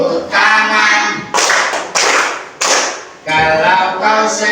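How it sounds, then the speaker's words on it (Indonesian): Children clap their hands along to a song, with several loud, sharp claps spaced at roughly regular intervals over continuous singing voices. "Kalau kau senang hati tepuk tangan."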